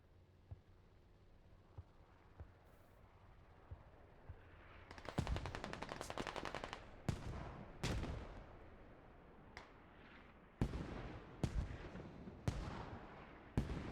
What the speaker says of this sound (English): So now mortars are flying in.